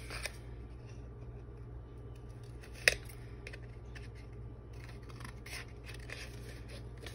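Scissors trimming a small piece of paper for a craft project: faint, close snips and light paper rustles over a low steady background hum, with one sharper click in the middle.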